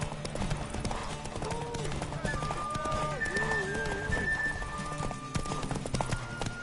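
Horse hooves clip-clopping in The Witcher 3 video game, a steady rhythmic beat of the horse running close by, with game music and voices talking over it.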